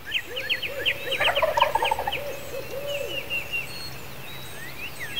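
Wild turkey toms gobble repeatedly in a spring woodland, several rattling calls overlapping at moderate distance, loudest in the middle and thinning out toward the end.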